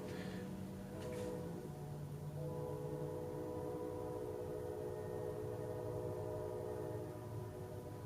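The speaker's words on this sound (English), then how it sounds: "Hear a train out there." A passing train heard from indoors near a home recording setup, a steady low rumble with long sustained horn-like tones throughout, fairly faint and continuous.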